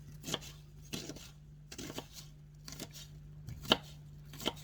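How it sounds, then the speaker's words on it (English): Vegetables and wild edibles roughly chopped with a knife on a board, giving about eight separate sharp knocks at an uneven, unhurried pace, close up over a low steady hum. "roughly chopped, or you could chop it up as small as you want"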